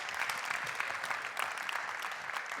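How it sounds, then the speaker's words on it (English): Audience applause welcoming two cast members, Savannah and Rosie, onto a workout-show stage: a steady, dense wash of clapping that holds at an even level throughout, with no voices over it. "Give them a big round of applause."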